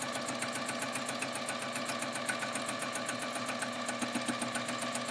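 A sewing machine hums steadily during free-motion quilting, its needle chattering in an even, rapid rhythm that stays close and constant throughout without any pauses.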